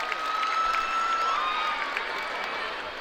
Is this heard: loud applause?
yes